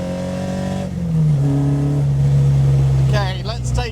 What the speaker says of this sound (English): The sound from those trumpets from the Webbers, oh, it's magical.